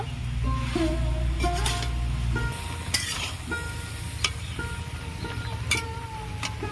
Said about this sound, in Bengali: লবণ দিয়েছি ভালো করে কষিয়ে নেব